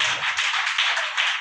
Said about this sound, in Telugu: నమ్మితే చప్పట్లు కొట్టండి